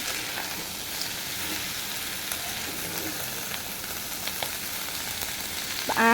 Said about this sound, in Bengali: এখন সবগুলো উপকরণ আমি বেশ সময় নিয়ে প্রায় 5 মিনিটের মতো তেলে ভেজে নেব